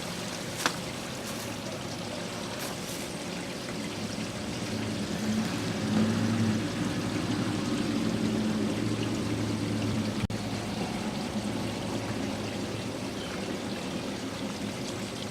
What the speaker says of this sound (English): now I'll pull out the gray. And this will rinse out the hose, as well as emptying the tank.